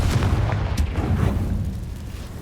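A Confringo spell explosion in the video game Hogwarts Legacy, a heavy rumbling boom with a few cracking bursts at the start that rolls on and slowly fades.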